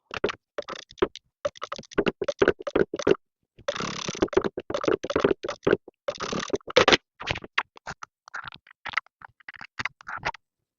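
A domestic sewing machine stitches a zipper in a U shape from the inside on an anorak zip-up jacket, heard as short irregular bursts of close, scratchy stitching with two longer continuous runs.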